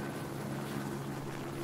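Helicopter flying over in the video game Project Zomboid, a steady low rotor drone with broadband wash holding at an even, moderate level throughout.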